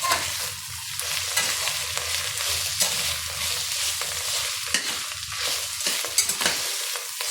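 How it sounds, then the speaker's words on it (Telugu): Chicken biryani being stirred in a single pot, a steady close sizzle of frying under repeated scraping stirs, with no voices. "ఒకసారి కలుపుకుందాం."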